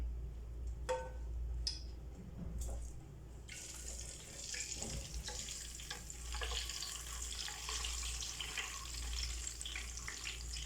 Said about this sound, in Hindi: सबसे पहले मैं यहाँ इसमें एग डाल के तो उनको फ्राई कर लूँगी।